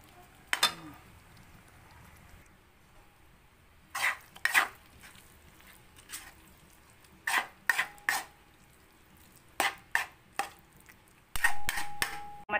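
Sticky rice for biko is mixed in a metal pot, with irregular sharp scraping clanks of a utensil against the pot in bursts, close and fairly loud between quieter pauses.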